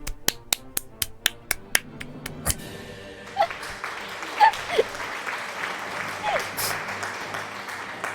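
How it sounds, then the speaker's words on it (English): A short burst of clapping from a sound effect, sharp evenly spaced claps at first that give way to a looser, noisier patter. "Cue the clapping sound."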